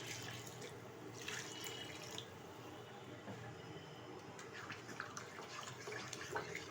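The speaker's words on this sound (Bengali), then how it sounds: "দিয়ে দিচ্ছি পরিমাণ মতো জল।" Water pours steadily into a pan of chilli chicken gravy after the spices are browned, a continuous soft splashing stream that stays fairly quiet throughout.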